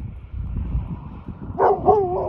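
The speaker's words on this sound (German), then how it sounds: "Die Hunde verscheuchen sie." Dogs on a beach chasing off wild boars: low rustling and scuffling at first, then a few quick sharp barks and yips close by toward the end.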